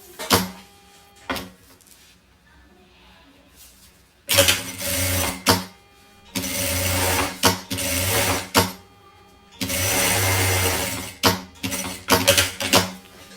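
A sewing machine stitches the seam of a fabric box pouch in several bursts of whirring separated by pauses, with clicks and handling noises in between; no voices.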